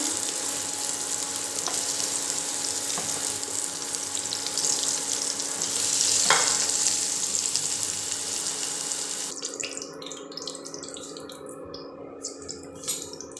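Cauliflower roasting and frying in hot oil in a pan gives a steady, close sizzle throughout, swelling briefly in the middle before settling, with occasional light pops and clinks near the end.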